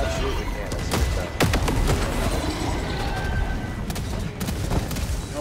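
Autocannon fire in Helldivers 2 hammers through a loud, chaotic battle. Heavy repeated booming shots land at an irregular rhythm over continuous explosive rumble.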